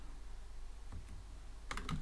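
Faint, scattered keystrokes on a computer keyboard while typing Python code, a few isolated clicks followed by a quick cluster near the end.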